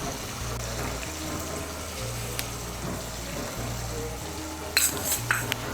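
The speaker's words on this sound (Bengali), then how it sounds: "মিশিয়ে নিয়ে মশলাটাকে ভালো করে কষিয়ে নেব।" Spice paste for a vegetarian matar dal muithya dish frying and being stirred in a pan with a little water and salt, soft steady sizzling with occasional scraping stir sounds, close and fairly quiet.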